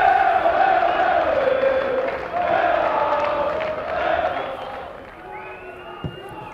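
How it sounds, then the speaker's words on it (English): Crowd chanting at a National Premier League soccer match between South Melbourne and Northcote City, a loud sustained sung chant from the stands that gradually fades, with a commentator talking over it. "Listen to the crowd going nuts with their chanting."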